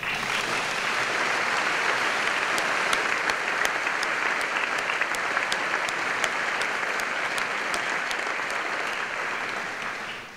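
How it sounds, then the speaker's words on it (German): Sustained applause fills a hall at a vocational school graduation ceremony for commercial apprentices in Willisau, a dense steady clapping from a large audience that carries on for about ten seconds before tapering off at the end, with no talk over it. "Ich denke, denen allen ist ganz ein grosser Applaus gewidmet."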